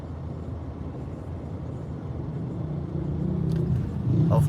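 City traffic rumbles steadily in a jam, a low, continuous wash of car engines that grows slightly louder, with a vehicle revving nearby toward the end.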